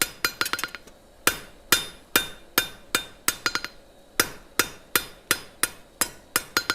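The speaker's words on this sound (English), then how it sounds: "Then we're going to hammer out that twist." A blacksmith hammers a twist out of metal bar stock, sharp ringing blows landing in quick bursts and steady runs, each strike loud and close with a short metallic ring, no talking.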